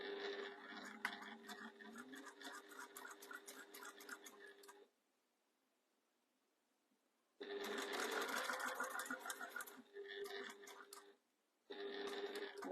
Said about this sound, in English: we're sewing to the next blue mark